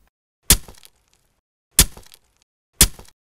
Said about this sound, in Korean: 실제로 단검 소리입니다.